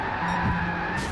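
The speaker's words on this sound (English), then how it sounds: "I just stuffed a very expensive McLaren" A McLaren race car in Gran Turismo 7 slides out of control, its engine holding a steady drone beneath a brief skidding tire squeal during a race against the AI driver Sophy.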